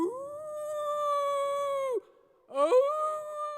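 Long sustained howls carry loud and close, one held steady for two seconds, then a short pause before a second howl bends upward, sounding like a voice imitating a dog or wolf howl.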